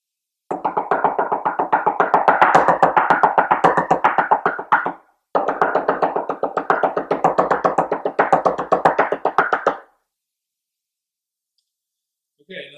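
Marimba mallets strike a Beetle Percussion practice pad in fast, even rolls of dense, close taps in two long bursts with a short gap between them, then silence with a few faint final taps.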